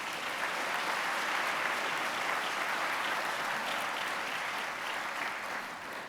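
A large crowd applauds steadily at a spring commencement ceremony for Blue Ridge Community College, an even, continuous wash of clapping heard from a distance in a big hall.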